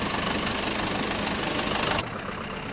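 A FARMLEAD tractor engine runs steadily at idle, a dense continuous rumble with a faint knocking pulse that drops slightly in level near the end.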